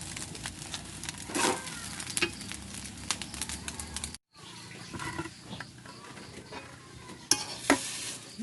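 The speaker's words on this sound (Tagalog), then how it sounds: "Nagsangag ho ako ng kanin" Steady sizzling in a hot pan with repeated scraping and stirring of rice fried with lots of garlic, close by, with brief clinks of a utensil.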